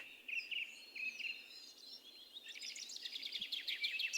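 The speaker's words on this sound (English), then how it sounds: "just listening to the birdsong" Faint birdsong with clear whistled phrases, then a busier run of quick chirps and trills, heard alone against a quiet background.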